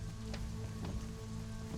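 Steady rain falls in the Conan Exiles video game, a dense, even hiss of drops on surfaces with a few slightly louder patters, with no voices.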